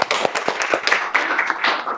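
A classroom of students claps in scattered, uneven bursts during a teacher's lesson, fairly close and moderately loud, with a voice faintly mixed in.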